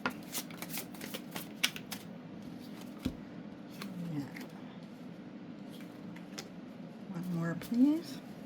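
Tarot cards being shuffled by hand, a run of quick riffling flutters and soft card slaps, close and fairly quiet, with a person speaking softly over them.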